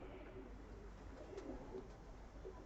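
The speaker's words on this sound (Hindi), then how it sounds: "और काली पलकों का कबूतर है।" Soft, low cooing of a male Malwai pigeon with a black beak and black eyelids, in short murmurs, faint beneath a constant background hiss.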